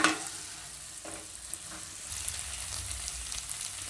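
Fried cauliflower pieces cook in a restaurant-style Manchurian sauce in a pan, with a quiet bubbling sizzle and light stirring scrapes that get slightly louder halfway through.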